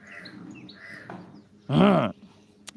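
A crow caws once, loud and close, a short harsh burst after quieter background sounds.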